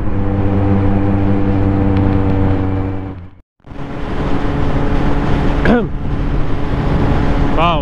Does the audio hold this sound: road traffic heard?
yes